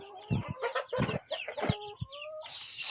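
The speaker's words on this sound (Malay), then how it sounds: "Anak-anak ayam okey?" Young chicks cheep in quick, high, overlapping calls, close by, mixed with soft handling and rustling sounds.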